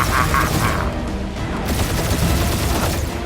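Rapid gunfire in a firefight in the video game Marvel's Guardians of the Galaxy, a loud dense burst of shots and crashes that runs continuously for a few seconds, with no talking.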